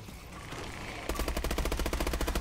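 Rapid automatic gunfire from a weapon in the Exo Zombies video game, a loud sustained burst of evenly spaced shots starting about a second in, following a quieter stretch of game noise.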